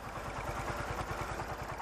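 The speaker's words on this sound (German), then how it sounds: "Der Trecker von den beiden Jungs ist ein Normag Zorge C10. Ein robuster Einzylinder, Baujahr 1952." A 1952 Normag Zorge C10 single-cylinder tractor engine runs steadily nearby, its low, even thumping pulses repeating quickly under a clattering mechanical rattle, with no voices.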